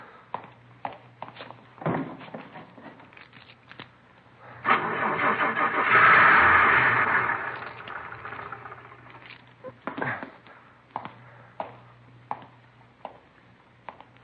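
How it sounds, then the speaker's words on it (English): A car engine cranks in an old-time radio police drama, whirring loudly for a few seconds without catching, set between quieter clicks and small knocks. "Lousy car wouldn't start."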